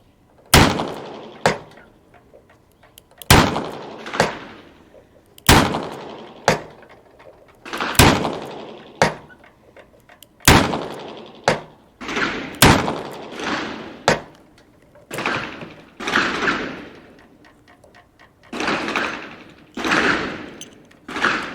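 Twelve rounds of Precision Delta ammunition are fired as test shots, each a sharp, loud report spaced a second or two apart in small groups, ringing out one after another with brief pauses between strings.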